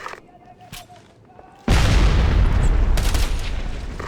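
A loud gunshot from the tactical shooter game Ghost Recon Advanced Warfighter 2 bursts in suddenly after quiet low ambience, followed by a sustained roaring rumble and echo that fills the rest of the moment.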